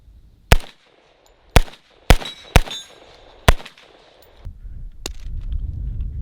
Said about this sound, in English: I'm going to shoot a couple and see how this feels with the H3